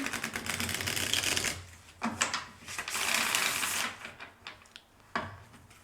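Cards are riffled and shuffled in several quick bursts of crisp fluttering clicks, close up, separated by short pauses.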